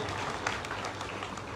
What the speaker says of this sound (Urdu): اور تھوڑی سی تالیاں مدثر صاحب کے لیے بھی بجائی دیں